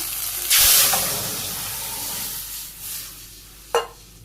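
Dal poured into hot oil tempered with bay leaf, cumin, fenugreek and ginger in a Bangladeshi village kitchen: a sudden loud sizzling hiss that fades into soft simmering, with a brief stir or clink near the end.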